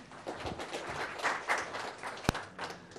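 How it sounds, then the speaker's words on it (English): A room full of attendees at a cloud computing talk in Bangalore giving a round of applause, fairly faint and uneven clapping with a few distinct hand claps and one sharp louder clap. "So give an applause to yourself."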